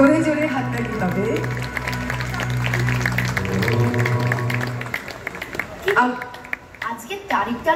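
An audience at a riverside ghat opening ceremony claps loudly; at first the clapping sits under sustained musical tones and a voice, then it breaks out in scattered bursts as talk continues.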